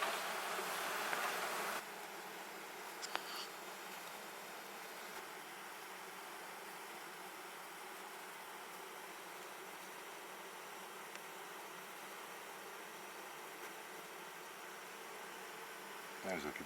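A swarm of gentle black honey bees occupying twelve frames, buzzing as a steady, dense hum from start to end, louder during the first two seconds and then holding an even drone.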